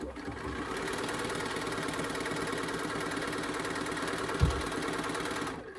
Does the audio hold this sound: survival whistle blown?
no